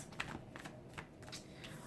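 Tarot cards are shuffled up close in a few quick, soft riffling bursts, quiet and papery, with no talk.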